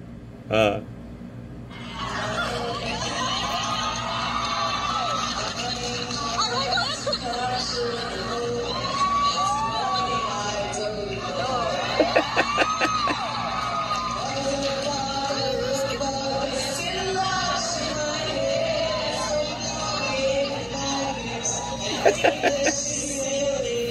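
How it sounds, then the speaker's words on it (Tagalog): Crowd of fans at a concert, reportedly in Singapore, shouting and cheering with whoops and yells over sustained music and singing, a continuous loud roar with sharper bursts of screaming, under a voice talking. "yung mga supporters niya, sigawan sila"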